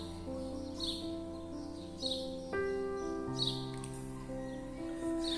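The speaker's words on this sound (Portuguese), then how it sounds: "vou fazer silêncio para você ouvir o canto desse pássaro" Short house sparrow chirps recur every second or so, fairly faint, over a steady tonal hum. No one speaks.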